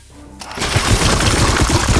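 Gunfire in the video game Warhammer 40,000: Chaos Gate - Daemonhunters, a dense, loud burst of rapid shots that kicks in after a quiet start and keeps pounding steadily to the end.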